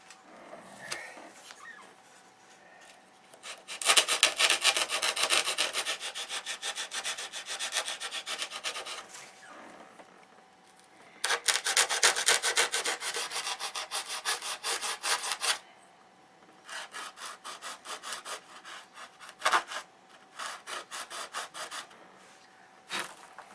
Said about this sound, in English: I had a stick with some sandpaper on it.